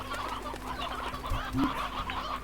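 Video game chicks in Slime Rancher peep and cluck softly in a busy mix of bird chatter, with a low steady hum in the background.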